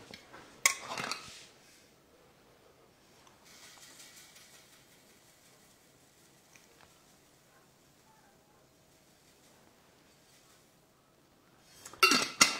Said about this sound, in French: on va ajouter donc le panier de cuisson. Et on va y peser 100 g de quinoa